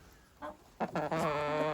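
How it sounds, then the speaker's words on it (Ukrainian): Hens on a homestead on a frosty day let out a few short clucks, then a longer, louder drawn-out cackle close by, with faint farmyard background. "Так, кури, ви там мені не, не заважайте."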